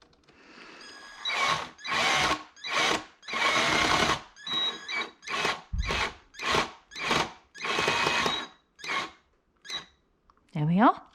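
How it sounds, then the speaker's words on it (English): An electric screwdriver drives screws into a wooden toy kitchen in a long series of short, loud whirring bursts separated by brief pauses, and a squeak comes right at the end. "I'm going to get the drill, the electric screwdriver, and put those in place as well."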